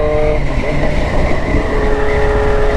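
A Kawasaki Z900 RS motorcycle fitted with a full exhaust roars loud and close, a sustained engine drone holding a steady pitch with no voices over it.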